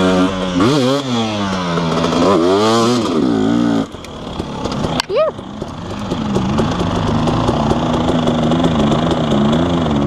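A dirt bike on a trail hill climb revs hard with rising and falling engine pitch, then bogs down and settles into a lower, uneven throb, loud and nearby, with people talking and shouting over it.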